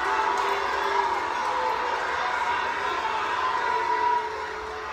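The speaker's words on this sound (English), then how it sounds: "Crowd telling him what they think." A wrestling arena crowd at a WWE Raw show reacts loudly to a promo, a steady broad roar of voices with shouts and cheering rising throughout, dropping slightly near the end.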